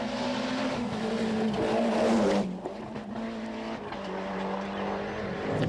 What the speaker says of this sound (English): The Calibre Subaru is also being driven to its limits